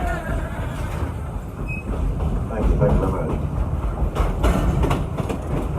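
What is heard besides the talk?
Dollywood train ride, train wheels on rails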